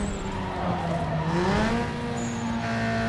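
In Need for Speed Underground 2, a car brakes hard inside a game tunnel: a continuous engine roar with a rising tire squeal, dense and echoing throughout, with no talk.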